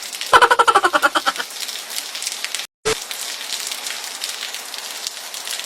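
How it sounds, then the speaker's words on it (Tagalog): Heavy rain in an animated scene, a steady broadband hiss of downpour running throughout, with a brief burst of rhythmic bleating or tonal calls near the start and a short dropout midway. "Ang lakas talaga ng ulan."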